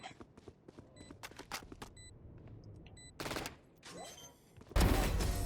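Gunfire rattles in the video game Valorant as rapid bursts of shots and a few single cracks, then a louder dense volley at the end, with faint game beeps between them.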